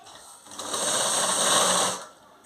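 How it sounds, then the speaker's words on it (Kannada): A sewing machine runs a single stitch line through blouse fabric joined to the main fabric, one steady whirring burst of about a second and a half, close and alone. "ಜೋಡಿಸ್ಕೊಂಡು ಇವಾಗ ಇದಕ್ಕೆ ಒಂದು ಸ್ಟಿಚ್ ಹಾಕೊಂಬಂದ್ಬಿಡೋಣ"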